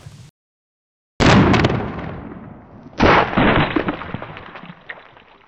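Two loud rifle shots from a scoped rifle aimed at a target outdoors, each a sharp, powerful blast with a long rolling echo, about two seconds apart.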